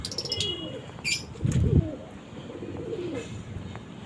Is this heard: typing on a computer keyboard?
no